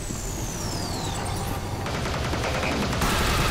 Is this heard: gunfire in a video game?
yes